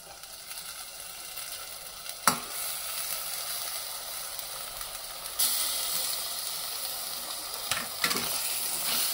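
Mutton frying in masala gives a continuous sizzle and hiss with a few sharp clanks of a spoon against the pot, then the hiss grows louder and brighter partway through.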